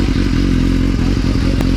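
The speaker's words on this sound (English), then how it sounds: "We get to rev the bike." A motorcycle engine runs loud and close in a short burst, its exhaust rumbling with clattering mechanical texture.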